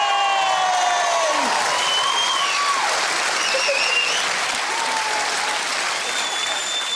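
Clapping and cheering from a TV studio audience on a comedy panel show, loud and continuous, with whoops and shouts sliding over the steady applause.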